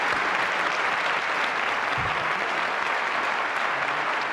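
Steady, loud studio audience applause on a Turkish television game show, dense clapping sustained evenly for several seconds.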